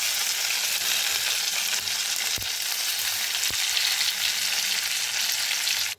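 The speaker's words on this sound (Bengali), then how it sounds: "তেল গরম হয়ে গিয়েছে, এর মধ্যে আমি দিয়ে দিচ্ছি গোটা জিরে, শুকনো লঙ্কা" Whole cumin, dried red chillies and bay leaves spluttering in hot oil in a kadai, a loud dense hiss with two sharp clicks, no talking.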